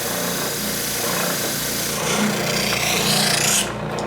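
A wooden guitar neck being sanded in long, even strokes, a steady coarse rasping that runs continuously and close up, with no talking over it.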